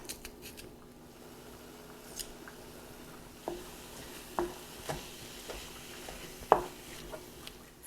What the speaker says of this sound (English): I'm going to add the ground beef to my skillet, and I'm also going to add my onions